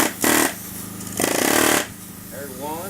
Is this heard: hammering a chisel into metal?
yes